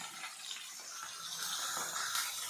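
Fish frying in hot oil with a dense, continuous crackle and spatter that rises in intensity, bright hissing pops sustained throughout.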